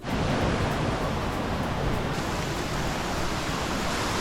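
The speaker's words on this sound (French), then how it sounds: "Donc a priori il y aurait une petite cascade." Small natural waterfall spilling into a pool in Guadeloupe, a steady, dense rush of falling water that holds an even loudness throughout, close by with no voices over it.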